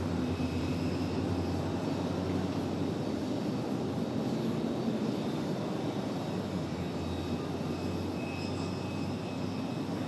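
A Boeing 737 MAX 8 jet airliner at Raleigh-Durham International Airport, heard as a steady, continuous engine roar with a broad rumbling wash that holds level throughout, with no voices.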